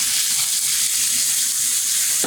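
Pork sizzles as it goes back into a wok of nearly cooked spring vegetables for Chinese spring roll filling, giving a steady, close frying hiss with soft crackle and no talking.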